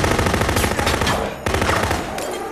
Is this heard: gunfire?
yes